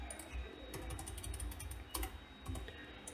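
Quiet, close keyboard typing in a series of quick, irregular clicks while a field gets renamed in Tableau software, set against a faint steady background hum with no voices.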